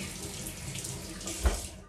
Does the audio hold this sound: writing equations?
no